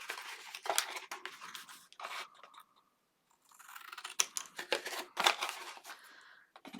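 Paper being folded and creased by hand for a mini album cover, with close crinkling, rustling and sharp crunchy creasing sounds in several bursts separated by a brief quiet pause.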